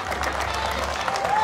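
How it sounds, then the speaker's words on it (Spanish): Applause from a crowd at a carnival parade in San José Teacalco, Tlaxcala, steady dense clapping for the short stretch with a whistle rising near the end. "para quien también pido un fuerte aplauso"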